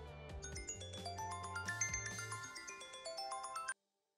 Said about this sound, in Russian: Датчик сработал, и уже через несколько секунд звонит телефон.